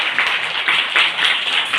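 Schoolchildren in an Indian classroom clap together for a classmate, a quick loud burst of rhythmic hand claps lasting under two seconds.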